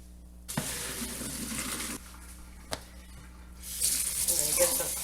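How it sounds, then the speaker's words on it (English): Cold tap water runs into a sink over cooked pasta in a strainer, a steady splashing rush that starts, pauses with a clunk, then returns brighter and hissier. "I'm going to get some cold water on it just to stop the cooking"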